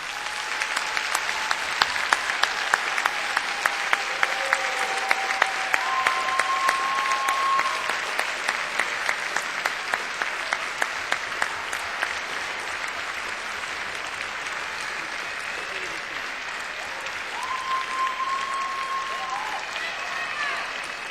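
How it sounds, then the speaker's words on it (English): A large graduation ceremony audience at Cardiff University breaks into sustained, enthusiastic applause for families and friends, a dense wash of many hands clapping that stays steady and full for about twenty seconds, with no talk over it. "say a special and public thank you to them all by giving them an enthusiastic round of applause"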